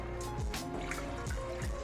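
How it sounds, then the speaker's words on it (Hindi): Water poured from a cup into a kadhai while making rice kheer, a soft steady trickle and splash with faint drips, quiet and close with no talking. "सबसे पहले मैं एक कढ़ाई ले लूँगी और उसमें 1 कप के जितना मैं पानी डाल दूँगी"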